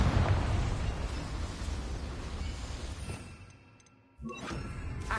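A Confringo explosive spell blast in Hogwarts Legacy: a broad roaring burst that fades into a quiet lull, then a second sharp crack and rumble erupts near the end.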